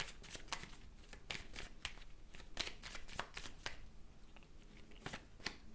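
Tarot cards being shuffled before a nine-card draw, a steady series of soft, crisp riffling flutters repeating in quick bursts, close and quiet, with no talking.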